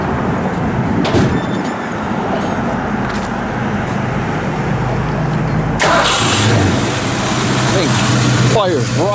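A 1964 Ford Fairlane 500 Sport Coupe with a 4-speed, headers and dual exhaust cranks and fires up close and loud partway through. It settles into a steady, rumbling idle after a stretch of background noise.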